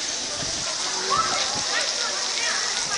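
Hail falling during a storm in Forster, NSW, a dense steady patter and splatter on surfaces, loud and close, with people talking over it.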